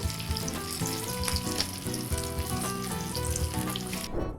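Bean balls frying in a pan with a steady, busy sizzle and crackle under a patter of faint clicks, continuous and fairly close for a few seconds before the sound cuts off.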